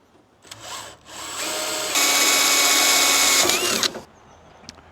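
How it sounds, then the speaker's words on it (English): A power drill whines loudly and steadily, rising to a harsh grinding pitch as it bites into a quarter-inch-thick steel bumper, then cuts off abruptly. "First thing we're going to do is go in with a slightly smaller drill bit."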